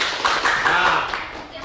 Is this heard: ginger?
no